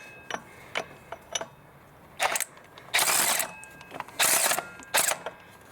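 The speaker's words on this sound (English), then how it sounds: "Alright, so I loosened up. The power ratchet did work." A power ratchet works the water pump pulley bolts on a 1996 Pontiac Grand Prix 3.1 V6, with short mechanical clicks at first, then several longer buzzing whirs in bursts, close and fairly loud.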